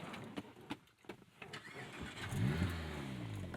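A 1991 Acura NSX with a loud aftermarket exhaust starts up, a few clicks and cranking bursts followed by the engine catching and settling into a rumbling, throaty idle, close and clear.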